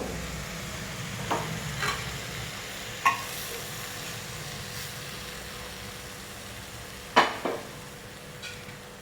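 A prawn curry sizzles quietly and steadily in a pan while a spoon stirs, with a few sharp clinks and scrapes against the pan at irregular moments.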